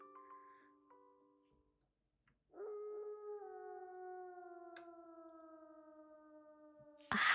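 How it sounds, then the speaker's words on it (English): A drawn-out, tonal howl from the video game Raging Loop, rising abruptly after a quiet pause and holding steady with slowly falling pitch, preceded by faint ticking and ending in a sudden burst. "A howl."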